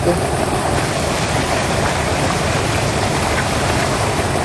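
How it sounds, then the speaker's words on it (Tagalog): Seawater rushing into a crab fish pond at high tide, a steady broadband wash of flowing water with wind noise, continuous and fairly loud throughout. "Umapasok po ang tubig dito po sa fish pond."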